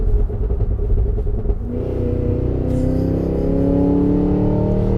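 A supercharged Cadillac Escalade V engine pulls hard at full throttle, a deep rising roar with climbing harmonics and a whine building steadily over several seconds, close and loud with no talk.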